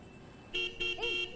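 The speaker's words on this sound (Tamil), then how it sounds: "யார் அது வாசல்ல நை நைன்னு ஹார்ன் அடிச்சிட்டே இருக்கு?" A car horn honks three times in short bursts outside a house's front gate, fairly loud and close, with a quiet background between the blasts.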